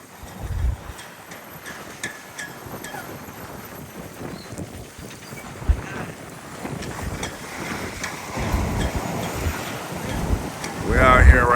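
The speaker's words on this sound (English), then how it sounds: "That wind is crazy." Strong gusting wind at a truck stop in Ontario, California, buffeting the microphone with rough, surging rumble that builds louder toward the end, with a voice speaking faintly in places.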